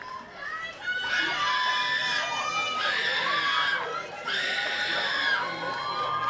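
A crowd at an Ori Tahiti dance competition cheers and shouts in waves, with high children's screams and whoops swelling twice, moderately distant and continuous.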